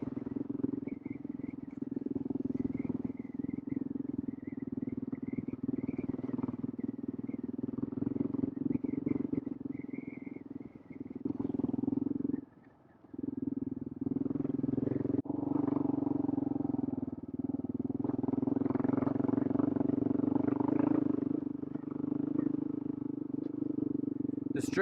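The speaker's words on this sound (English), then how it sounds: "there's the wind. I bet you guys are hearing that for sure." Wind roars across the microphone while a new bike is ridden off-road, a steady low rumble blended with engine drone that briefly drops out midway, then swells louder toward the end.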